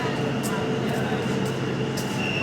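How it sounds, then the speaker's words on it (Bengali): Steady low rumble of a Kolkata underwater metro train arriving at a platform from Howrah, with a rising whine and faint rhythmic clicks, loud and close throughout. "তো গাইস ট্রেন চলে আসছে, তোমাদেরকে দেখাচ্ছি"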